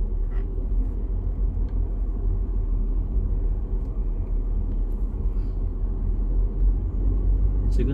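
Car interior with steady low engine and road rumble while driving, with no distinct gear-change event standing out. A few faint clicks occur near the start and end.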